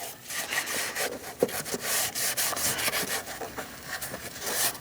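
Rough, irregular scrubbing strokes close up as the right-side motor mount surface on a 2000-2006 Mini Cooper 1.6L L4 engine is cleaned, a steady rasping rub with no voices.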